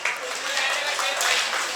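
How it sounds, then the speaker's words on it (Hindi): A crowd at a poetry mushaira in Bijnor bursts into loud, sustained applause, a thick wash of clapping from many hands that stays even and strong throughout. "तो एक बार ज़ोरदार ताली से अपना इस्तकबाल कीजिए आप।"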